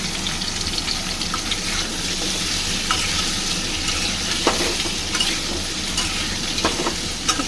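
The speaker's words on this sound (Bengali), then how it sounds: "আমি গাঠি যে একটু তেলে ভেজে নেব।" Taro (gathi kochu) pieces frying in hot oil, a steady close sizzle with occasional stirring scrapes and small pops, continuous without talk.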